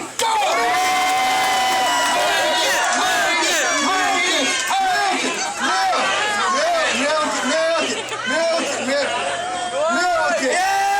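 A live audience cheers contestants in a grip contest: loud crowd whoops, shouts and excited chatter, with a voice or two talking over the sustained roar throughout.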